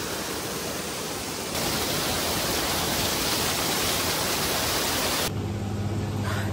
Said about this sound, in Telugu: ఇది ఇక్కడ వాటర్ ఫాల్స్ అయితే వాటర్ పడే సౌండ్ ఉంది.